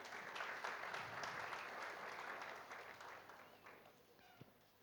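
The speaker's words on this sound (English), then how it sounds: "Please, a round of applause for them again" Conference delegates at a seamen's branch meeting applaud together, a dense wash of clapping from a sizeable crowd that stays steady and then gradually thins and fades toward the end.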